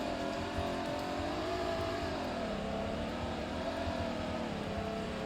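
A 2020 BMW M760Li engine drones steadily from inside the car as it accelerates, a loud, continuous hum with gentle shifts in pitch and no voices.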